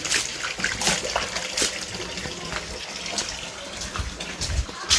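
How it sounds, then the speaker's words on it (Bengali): Water splashes and pours while a man washes his body, a steady close-up wet spattering with uneven gushes and drips, no talk. "আর এদিকে আমার ভাই এখন গা হাত ধুচ্ছে"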